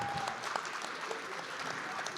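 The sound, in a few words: audience applause for the panelists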